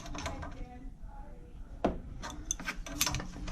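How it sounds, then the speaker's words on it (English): An adjustable wrench turns a fitting on a laundry sink installation, producing a few short metallic clicks and scrapes with one sharper grinding turn, close and fairly quiet, while people talk. "Using that adjustable wrench, or any wrench."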